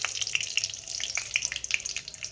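Tempering spices and garlic cloves fry in hot oil with a dense, close sizzle and rapid crackling pops throughout, no voices.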